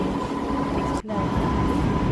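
A local train in Israel pulls into a station, a loud steady rumble of wheels and carriages that continues without a break apart from one brief dip.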